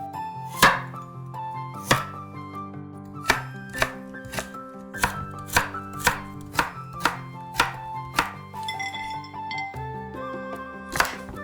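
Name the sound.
knife chopping carrots into strips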